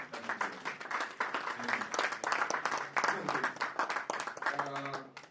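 An audience at a global wealth and real estate event gives a sustained round of applause, dense clapping filling the room steadily for several seconds.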